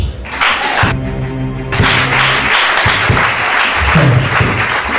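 Church congregation clapping together in a loud, steady wash of applause, with a sustained organ-like tone briefly surfacing underneath and scattered voices in the room.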